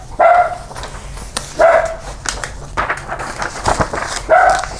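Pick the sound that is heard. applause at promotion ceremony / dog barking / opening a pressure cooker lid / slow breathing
dog barking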